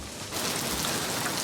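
Steady rain pours as a dense, even wash of noise, loud and close, with no voices over it.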